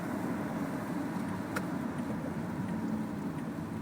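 A 2014 Toyota Camry LE cruises on a rainy highway, giving a steady, even rumble of road and tire noise with a faint engine hum and no speech.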